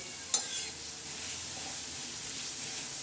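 Green chili, tomato and garlic thecha frying in a pan, with one sharp scrape of a spatula early on, then a steady, soft sizzle that continues alone.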